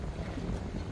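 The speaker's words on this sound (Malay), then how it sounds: "Cuaca berangin sahabat, cuaca berangin." Steady wind rumbles and buffets at a fishing spot in Changi, Singapore, a continuous low roar across the whole short stretch with no voices.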